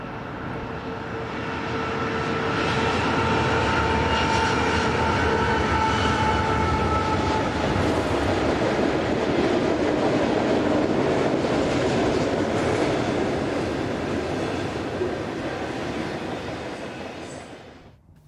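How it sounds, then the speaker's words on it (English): A westbound freight oil train hauled by 4-9 diesel locomotives passes on a desert main line about 200 miles from Las Vegas, its steady rumble and wheel rattle building quickly and holding loud and close before cutting off at the end. "which shows 4-9 variants heading a westbound oil train"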